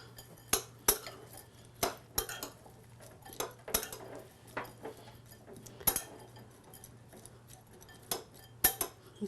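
Herbs including mint and cilantro get a quick mix, heard as a string of sharp, close utensil clinks and taps against a bowl, coming in irregular bursts with no talking.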